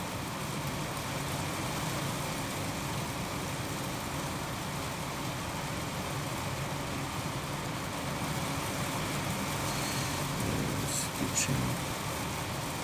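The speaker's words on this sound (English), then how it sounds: "the Aussie sounds of rain on the tin roof or the bus roof" Rain pounds steadily on the tin roof of a bus in Australia, a thick, continuous roar of drops that holds level for many seconds, with a few sharper clicks near the end.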